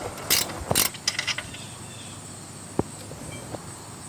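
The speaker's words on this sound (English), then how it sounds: "Using a 14mm wrench, I'm going to loosen the top bolt." Ratcheting clicks from a 14mm wrench working a rear brake caliper mounting bracket bolt loose on a 2008 Hyundai Elantra 2.0L, with a burst of metallic clicks early, then a single sharp tap and quieter ticks, close and fairly faint.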